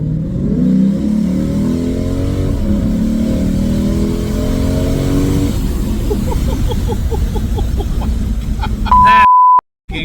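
A car fitted with an Apex'i non-resonated exhaust revs hard late at night, the engine climbing in pitch through a long pull before dropping back to a choppy idle, loud and close, ending with a sharp electronic beep.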